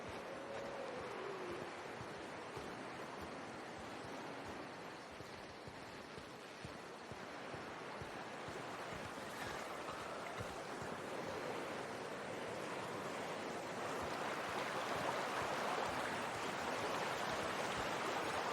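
Steady rushing water from a waterfall in The Outer Worlds, a constant broad roar that swells slightly toward the end, continuous and alone without voices.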